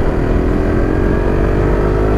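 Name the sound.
Suzuki GSX S150 motorcycle engine while riding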